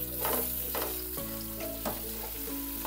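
A big onion, added after garlic has browned, fries in a pan with a steady sizzle and a few stirring scrapes, fairly close and faint, under soft background music.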